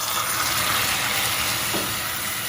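Dense, steady sizzling hiss of water hitting hot melted sugar caramel in a pan, loud and continuous throughout with no voices, for a caramel custard cake.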